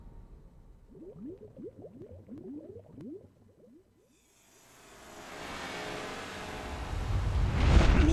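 A splash into water in Tomb Raider 4 follows a stretch of short chirping calls and a brief silence, then builds into a rising, rushing wash of water that swells loudest at the very end.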